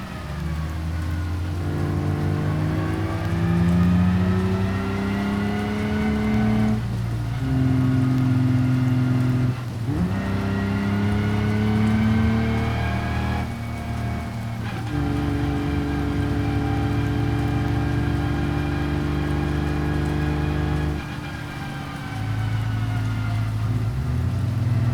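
A Corvette in the BeamNG driving game tows a trailer, its engine droning loud and steady with rising harmonics as it revs, then dropping sharply at each of several gear shifts through the transmission.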